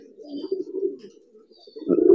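Soft, low cooing of wild pigeons murmurs steadily nearby, growing a little louder toward the end, with faint higher chirps in the background.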